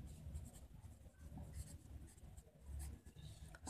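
Chalk or marker scratching out an answer on a board during a topology lecture, a continuous soft scraping and rubbing with small taps, close and fairly quiet, with no talking.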